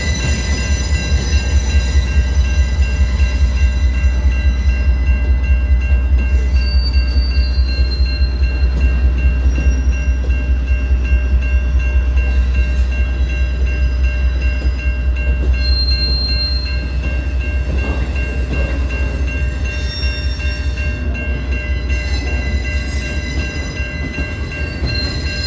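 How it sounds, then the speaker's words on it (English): Freight train rolling steadily through a railroad diamond crossing at 32nd Street in Birmingham, Alabama, with a loud, close, continuous rumble, rhythmic wheel clatter and faint squealing throughout. "NS 245 would roll over the diamond at 32nd Street to continue its journey south without the FEC motors"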